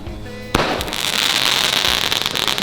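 An Army Man firework launches with a sharp bang, then a sustained loud hissing, crackling burst of sparks that continues to the end, heard outdoors during a Harley road trip to Sturgis.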